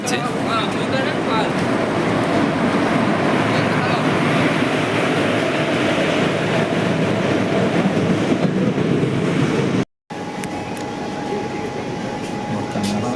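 A loud, continuous rumbling roar of a train arriving at a station fills the space, broken once by a brief cutout, with voices faintly under the noise.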